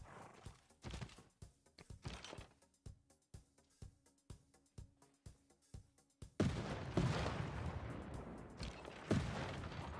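Field cannon fire in a Civilization VI match, with a steady run of sharp, evenly spaced blasts followed by a louder, dense burst of heavy booming impacts.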